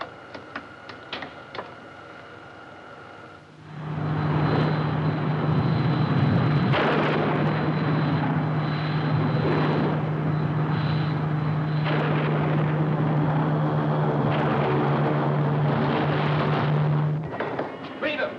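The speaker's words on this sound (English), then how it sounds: "Full rocket power, Winky." Spaceship rockets fire at full power in an animated space adventure, a loud sustained roar with a steady low hum that kicks in suddenly after a few seconds of quieter sound and runs unbroken to the end.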